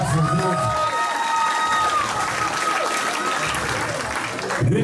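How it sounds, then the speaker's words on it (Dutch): A kickboxing event crowd applauds and cheers the fighters in a loud, echoing hall, with shouts and a sustained wash of clapping and crowd noise under amplified tones. "geef ze een duim voor de applaus bij de vechters"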